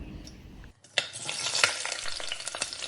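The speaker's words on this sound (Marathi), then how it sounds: "प्रथम मोहरी व जिरे टाकून छान फोडणी करायची आहे" Mustard seeds and cumin hit hot oil in a pan for tempering, setting off a sudden sharp sizzle after a brief quiet moment, then steady crackling with scattered pops, close by and without talk.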